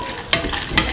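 Green peas being stirred into a tomato and winter melon stew, a soft sizzling bed broken by two sharp scraping stirs, close and fairly loud.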